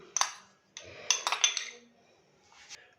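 Chopped, deseeded tomatoes for chana chaat are scraped into a bowl with clinks and scrapes of a metal spoon, a few quick bursts close by and then a fainter tap.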